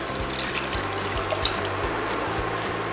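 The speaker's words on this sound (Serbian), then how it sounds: "sada nalivamo sa vodom. Dodat ću litar vode" A litre of water poured into a pot of meat and vegetables on medium heat, a continuous close, loud rushing pour.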